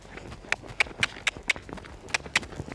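Hooves of a pony clip-clop steadily on firm ground, about ten evenly spaced crisp thuds in quick trotting rhythm, close and moderately loud, with no speech over them.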